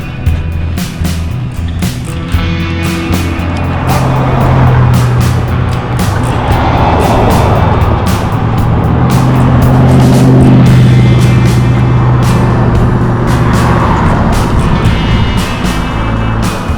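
Morning commuter traffic on Picture Rocks Road heading into town, vehicles passing steadily by as a continuous loud engine and tyre roar that swells and fades, with wind buffeting the microphone.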